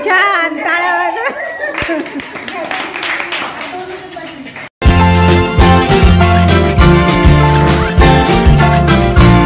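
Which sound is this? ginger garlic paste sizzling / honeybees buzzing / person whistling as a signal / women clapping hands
women clapping hands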